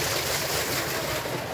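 Water pumped by a shallow irrigation pump rushes steadily into a farm field beside maize and paddy, a continuous broadband gush close to the microphone with no talking.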